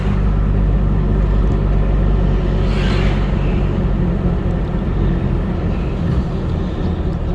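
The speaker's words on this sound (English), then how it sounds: "Still such a good running old truck. It's a 1992 model." A 1992 truck engine runs steadily at close range, a continuous loud low rumble with no breaks and a brief brighter swell near the middle; no one speaks.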